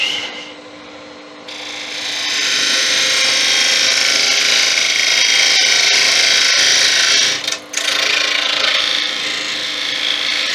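A wood lathe turning a tenon on a tuning fork stand cuts in a steady, loud, continuous hiss and rasp, with a brief pause near the end before the cutting resumes.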